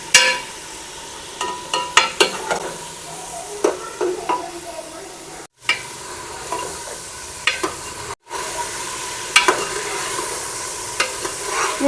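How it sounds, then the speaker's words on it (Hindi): Chicken pieces frying in a pan over high heat, a continuous sizzle with frequent knocks and scrapes from stirring, briefly cutting out twice. "ये तो मैंने चिकन फ्राई कर लिया।"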